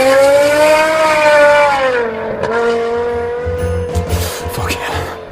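BMW M5 engine revving hard and loud up close, its tone rising and then falling, with some tire squeal and rumble toward the end.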